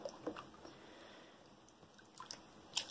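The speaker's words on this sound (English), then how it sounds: "we're going to get that going into a slurry in our water here" Handfuls of homemade paper pulp are stirred into water to form a slurry, producing faint wet sloshing, drips and squishy splashes in short bursts.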